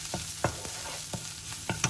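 Onions with turmeric fry in a pan under a continuous close sizzle, while about half a dozen sharp stirring scrapes strike at irregular intervals.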